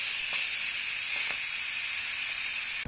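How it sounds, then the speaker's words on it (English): Steam vents from a 2-quart pressure cooker holding BBQ chicken in a steady, loud, close hiss that lasts nearly three seconds before cutting off abruptly. "I'm gonna let out the steam."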